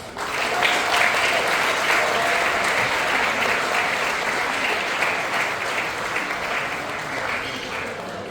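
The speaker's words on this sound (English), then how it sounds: "Let's applaud for the Netherlands" Dinner audience at a semester commencement event applauding after a country, the Netherlands, is announced; dense, sustained clapping from a crowd that holds steady for about eight seconds and tapers slightly at the end.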